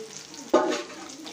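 Vaval pomfret fish frying in masala gives a soft, steady sizzle, broken by one sudden louder rustle and scrape partway through, heard close and alone.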